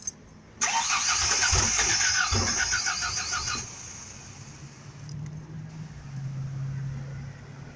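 A truck engine cranks in a loud burst for a few seconds, then catches and settles into a low, steady idle, heard up close with no talking.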